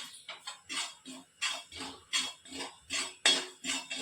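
Poppy seeds being dry-roasted in a pan for a date and dry-fruit roll, giving a close, steady run of light rattling and scraping strokes, roughly two or three per second, with no voices.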